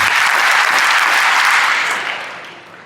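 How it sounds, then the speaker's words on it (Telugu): An audience applauds a schoolgirl named Roja at an event where a legislator acts as a teacher, loud steady clapping filling the space before thinning out and fading toward the end. "రోజాకు 4 సార్లు చప్పట్లు కొట్టండి."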